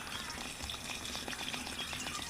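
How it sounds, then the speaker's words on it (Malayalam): Water is poured over pineapple pieces in a container for homemade pineapple wine, a quiet, steady liquid trickle and splash with no voices. "അപ്പം ഇനി വെള്ളം ഒഴിക്കുക"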